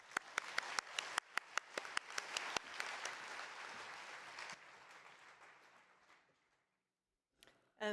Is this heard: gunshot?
no